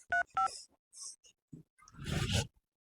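A few short electronic dial tones beep in quick succession, followed by scattered quiet clicks and a brief burst of rustling noise.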